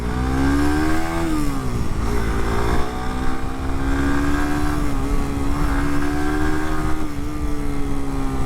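A Suzuki GSX-S150 sport motorcycle engine gives a loud, steady roar with shifting pitch as revs rise and settle while being ridden and accelerating, heard up close without talk.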